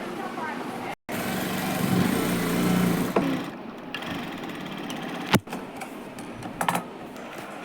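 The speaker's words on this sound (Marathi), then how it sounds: "आता आपण इथे एक टीप मारून घेऊया वरच्या साईडला." A sewing machine stitches an organza frock in a steady mechanical run lasting a couple of seconds, followed by scattered clicks and handling sounds close by.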